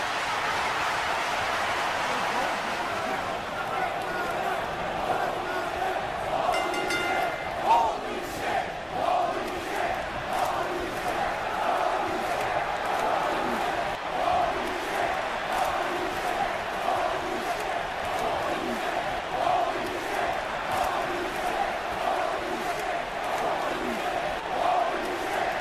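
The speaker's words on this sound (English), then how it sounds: "Look at this crowd." Arena crowd in the WWE 2K video game, a steady dense roar of cheering and chanting throughout a wrestling match, loud and continuous with no clear voices on top.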